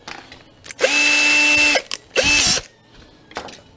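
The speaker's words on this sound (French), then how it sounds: "Hop, on perce là." A power drill boring a hole, in two whining bursts, a longer one followed by a short one, close and loud with no talking.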